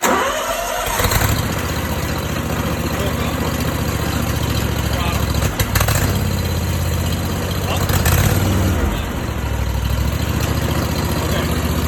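A riding lawn mower engine cranks and catches right at the start, then idles loudly and steadily close by while someone talks over it.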